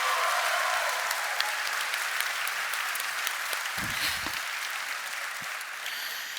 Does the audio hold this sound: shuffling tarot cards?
no